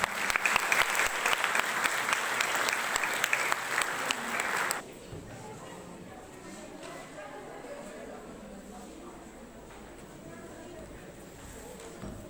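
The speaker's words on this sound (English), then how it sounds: "So please call her with a huge round of applause." Applause from a school assembly audience, loud and dense for about five seconds before dropping away to a quieter murmur of the hall.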